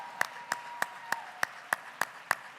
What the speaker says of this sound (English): Ladies and gentlemen, round of applause, Sheldon.